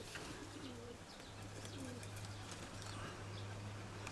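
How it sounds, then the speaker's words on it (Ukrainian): Soft, low cooing from an injured female pigeon that won't stand on her right foot, faint and a little distant, under a steady background hiss with a few light chirps. "Ось вона голубка"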